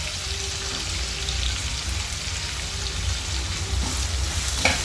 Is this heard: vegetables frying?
yes